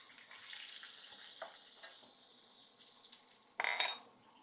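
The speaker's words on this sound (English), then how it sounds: "we are going to cook the shrimp. Okay, ready to add the shrimp." Shrimp for pad thai frying in a pan, a quiet soft sizzle with light stirring, then a sharp louder burst of sizzle and utensil clatter near the end.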